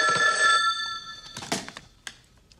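A telephone rings loudly in a movie scene, one sustained electronic ring burst followed by a few soft thunks and clicks as the line goes quiet.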